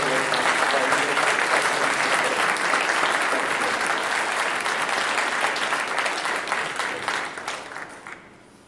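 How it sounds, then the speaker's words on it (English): A large conference audience at a closing ceremony in Davos claps loudly and steadily, a dense wash of applause that thins and fades near the end. "So a very warm applause to all"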